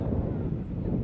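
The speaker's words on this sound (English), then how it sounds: "the wind has picked up" Wind buffets a microphone high up on a lift at a giraffe enclosure, a dense low rumbling roar that stays loud and unbroken throughout, with no clear talk.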